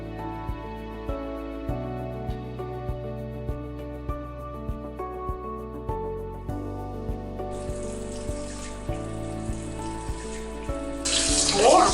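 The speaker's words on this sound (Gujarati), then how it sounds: "હવે આપણી આ વેફર પણ ધોવાઈ ગઈ છે" Thin potato wafer slices are washed in water, a splashing, rushing wash that rises late and swells loudest at the end, under steady background music with a regular plucked beat.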